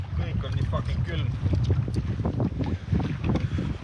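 Cold wind blowing outdoors on the Lofoten coast, a steady rough buffeting roar across the microphone under a voice speaking.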